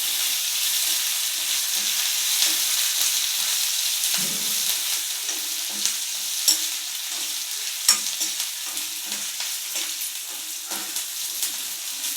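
Ginger, green chillies and curry leaves frying in a hot tempering of spices in a village-style pan, a steady loud sizzle with stirring clicks and scrapes, no voices.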